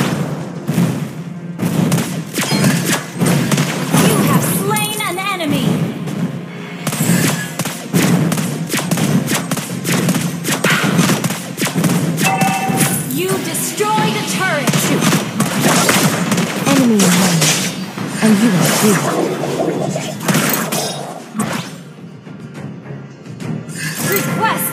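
Loud, nearly continuous gunfire and heavy impacts in a shooter video game, rapid cracking shots mixed with thuds and shattering hits, with game voice lines and a player talking over the chaotic action.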